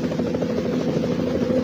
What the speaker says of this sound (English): I saw the chopper dropping off armed robbers on top of the bank